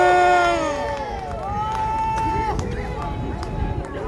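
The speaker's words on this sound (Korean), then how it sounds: "박수 한번 주세요" A crowd at a Saturday rally outside Seoul Station cheers and shouts loudly as a speaker is introduced, with a strong opening call giving way to mixed voices and scattered clapping.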